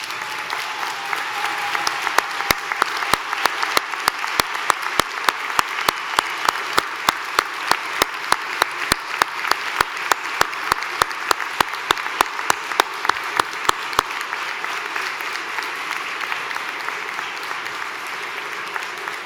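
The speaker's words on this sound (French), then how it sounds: "je vais demander aux diplômés de se lever et de se tourner vers leurs parents et amis pour les applaudir" Graduates at a university convocation ceremony applaud their parents and friends, a broad, sustained wash of hall-filling applause with a regular rhythmic clapping pulse running through the middle before it trails off.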